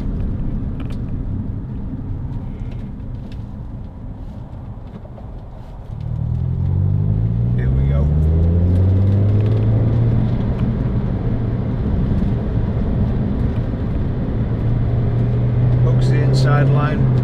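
A 2006 Toyota MR2 1.8 VVT-i Roadster driving, its engine humming low under steady cabin rumble, with rising pitch sweeps as it accelerates through gears partway in; someone talks over it throughout.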